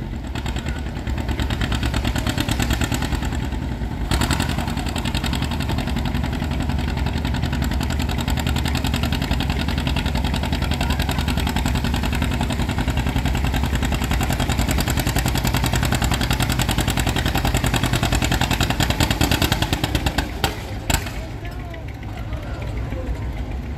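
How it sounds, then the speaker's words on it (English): A John Deere G, one of the big cubic-inch two-cylinder tractors, pulls at a farm stock tractor pull at the Carroll County Fair. Its engine drones loud and steady for about twenty seconds, with crowd babble underneath. "Another one of the big Cubic two-cylinder Deeres."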